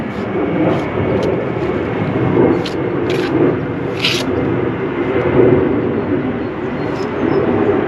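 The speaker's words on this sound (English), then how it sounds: "another airplane." An airplane passes overhead above an outdoor bricklaying site, a loud continuous broad rumble holding steady throughout, with a few faint clicks over it.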